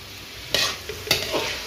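A spoon stirs carrots and rice on a hot tawa for tawa pulao, two scraping strokes over a steady sizzle of frying, close and fairly loud.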